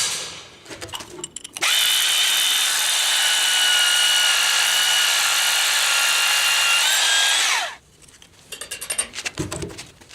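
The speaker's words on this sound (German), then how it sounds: "um die Löcher für die" A power drill bores holes for formwork holders at the edge of a concrete floor slab for an open fireplace, one loud sustained whine lasting about six seconds, close by, with quieter handling noises before and after.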